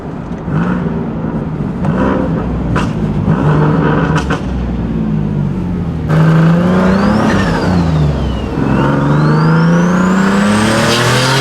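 A tuned car engine with a T51R turbo revs hard and repeatedly, pitch sweeping up and down with a whistling turbo spool whine, loud and close, no voices.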